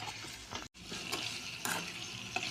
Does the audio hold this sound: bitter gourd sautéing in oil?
yes